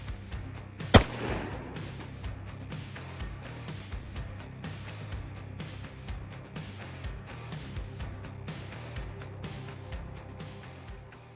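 A single sharp rifle shot of a blue tip 5.56 training round cracks loudly near the start, followed by a ringing outdoor echo and faint rustling handling noises afterward, with no talk.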